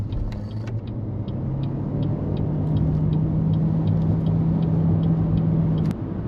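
A BYD Shark 6 hybrid ute accelerates hard from a standstill, a low steady engine drone rising slowly beneath cabin rumble and faint clicks, then cutting off abruptly near the end.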